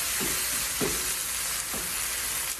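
A spinach, carrot and cabbage Manchurian sizzles loudly in a pan over a high flame while a spatula scrapes and stirs through it in a few steady strokes.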